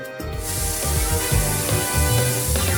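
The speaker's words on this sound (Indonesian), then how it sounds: "Kita semprotkan." A spray bottle mists continuously for about three seconds, making a broad, steady hiss over quiet background music.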